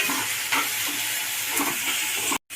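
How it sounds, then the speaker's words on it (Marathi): Onion frying in oil in a home kitchen pan, a steady broadband sizzle with occasional stirring scrapes, close and continuous before a brief cutoff at the end. "पहिला तेलात कांदा फ्राय करते आहे."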